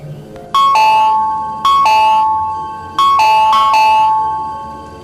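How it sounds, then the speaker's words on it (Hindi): A doorbell rings three times in quick succession, each a bright two-note chime that lingers and fades, loud and close with no talking. "फिर वो शैतान दोबारा बेल बजाता है।"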